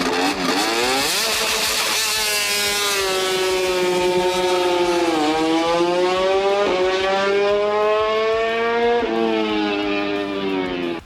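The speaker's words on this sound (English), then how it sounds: "hearing all of these V4s come thundering down the back straight at Coda" Several V4 motorcycle engines scream down the back straight at a racetrack, loud and continuous, with pitch climbing through repeated gear shifts as the bikes pass close by.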